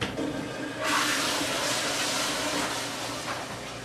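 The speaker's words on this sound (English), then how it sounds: "I heard that toilet flush, but I didn't hear the hand sink." A toilet flushes: after a brief quiet start, a sudden rush of hissing, gurgling water swells and holds steady, then slowly eases, with no one speaking.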